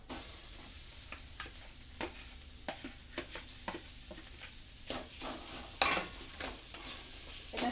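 Boiled potato filling with turmeric and salt being sautéed in a pan for aloo paratha, a soft steady sizzle broken by repeated scraping and tapping stir strokes, close and moderately quiet, no speech.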